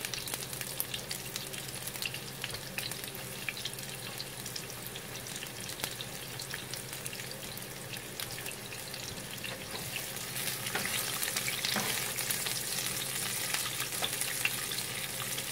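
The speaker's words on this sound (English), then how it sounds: "We're going to go ahead and give this a couple of minutes to just saute." Chicken pieces and vegetables saute in palm oil for a Congolese-style chicken with spinach, making a steady, dense frying hiss that swells a little louder partway through, with no voices.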